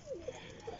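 Pigeons coo softly in short, throaty bursts, two or three low warbling calls close by with a faint hum behind them.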